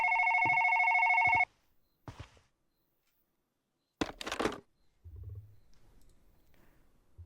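A telephone call to the police starts with one steady electronic ring tone, followed by scattered clicks, a brief loud rustle and a low hum.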